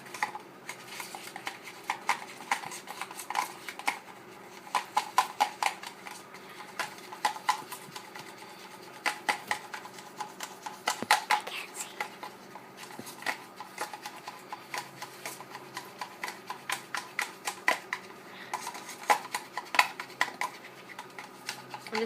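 A stick stirs acrylic paint in a small container, producing rapid, repetitive scraping and tapping clicks in a steady rhythm, fairly quiet and close, with no talking.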